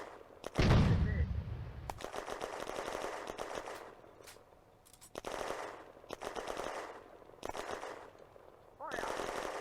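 Bursts of machine-gun and rifle fire from the World War II strategy game Firefight rattle in repeated volleys on the Eastern Front, with a louder blast early on and short pauses between bursts, while German voice commands are spoken throughout.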